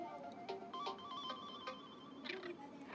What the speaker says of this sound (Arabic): تليفون كيوت قوي اما نشوف صوته عامل ازاي